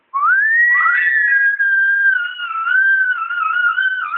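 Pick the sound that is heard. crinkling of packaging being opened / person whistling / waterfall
person whistling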